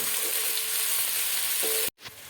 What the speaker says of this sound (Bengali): তেল গরম হয়ে গেছে পেঁয়াজ কুচিটা দিয়ে দেবো